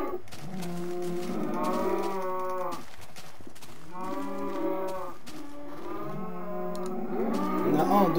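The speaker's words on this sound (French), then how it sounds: "mon dieu, trop de vaches." Cows in Minecraft moo repeatedly: three long, drawn-out lowing calls follow one another at a steady pace, loud and close, with a fourth starting at the end.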